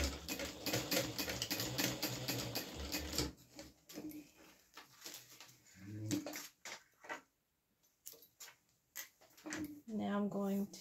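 A sewing machine stitching in rapid mechanical bursts with a dense clatter, pausing and restarting, while a person talks over parts of it.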